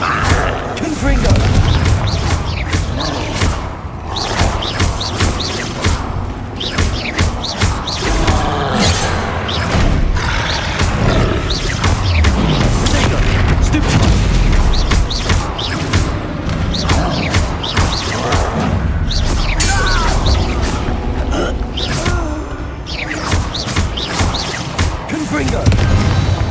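Blasting spell explosions from the video game Hogwarts Legacy, a dense run of booms and crashing impacts under continuous game sound and music for the whole stretch, with a voice talking over it.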